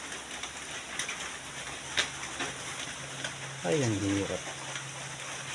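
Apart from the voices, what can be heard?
rain falling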